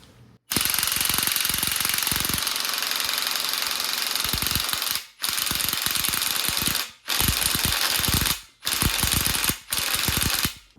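A power tool drives a lubricated bolt into an LS truck engine during a cam install, with loud sustained rattling bursts of the driver separated by brief pauses.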